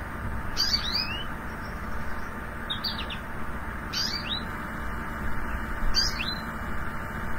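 A recorded bird call heard as a repeating "baby, baby" phrase, four short bright two-part notes spaced about every second and a half over a constant background hiss, fairly clear and close.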